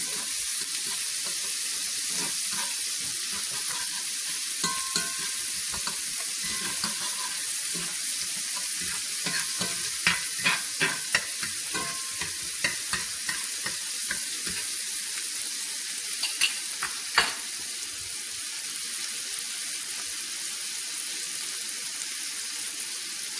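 Small sweet yellow and red peppers with spring onions sauté on the stove with a continuous hissing sizzle, moderately loud and even, with scattered light crackles and spatters.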